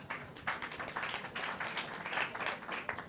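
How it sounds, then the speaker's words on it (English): Conference audience applause, a fairly quiet spread of clapping hands in a hall, steady and uneven for about three seconds with no voices. "An applause to all of you"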